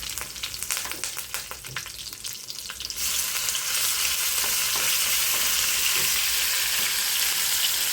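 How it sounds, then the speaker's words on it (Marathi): Curry leaves, green chili and ginger-garlic paste hitting hot oil with mustard seeds in a pan, a crackling splutter that bursts into a loud, steady sizzle with stirring. "त्यानंतर त्यामध्ये कढीपत्ता आणि मिरची ॲड करूया व 1 चमचा आलं लसूण पेस्ट घालूया."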